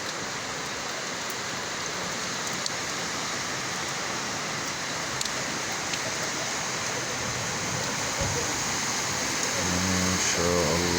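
Heavy winter rain pours down over a residential neighborhood during a strong storm, a dense, loud, unbroken wash of noise with scattered drips and patters standing out near the end.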